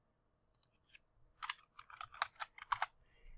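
Clicky keystrokes on a computer keyboard while adjusting a 3D cartoon character's head scale in Character Creator 3, a sparse tap or two followed by a quick burst of about a dozen fairly close presses, with no talking.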